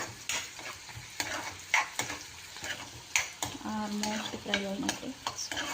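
Maggi noodles deep-frying in a pan give a steady sizzle broken by scraping stir strokes and a few sharp clinks of a utensil, with a brief tonal squeak near the end.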